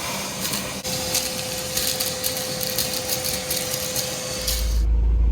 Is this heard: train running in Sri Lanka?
no